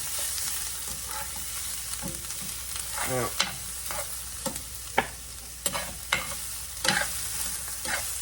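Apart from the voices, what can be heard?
filling frying in bacon grease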